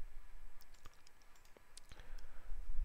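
A few light, sharp mouse clicks sound close and faint against quiet room noise during a Linux install in VirtualBox, with no speech.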